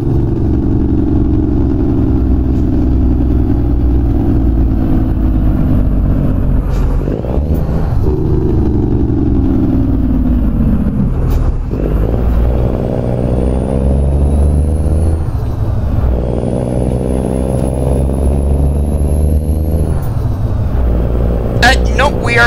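A Freightliner FLD truck engine in American Truck Simulator drones low and steady for over twenty seconds, its pitch shifting with speed, with what may be voices over it.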